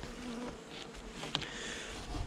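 Honeybees from a transferred colony drone steadily at the hive in November, a continuous close buzz with individual bees flitting past, no voices.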